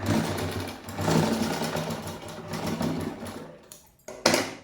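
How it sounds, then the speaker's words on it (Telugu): Sewing machine running steadily as it stitches elastic onto the end of a three-quarter-length frock, a continuous close whirring that pauses briefly near the end before starting up again. "ఇక్కడ చివరిలో ఈ ఎలాస్టిక్తో కుట్టు వేయాలి"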